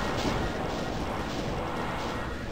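Rocket launcher fire from Doom II echoes through a temple level as a steady, heavy, rumbling barrage of blasts, loud and continuous over the short stretch.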